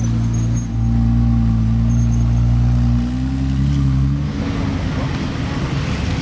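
Cars arriving at a Monaco supercar gathering, a steady low engine drone rumbling close by for several seconds before easing into broader, softer road and wind noise.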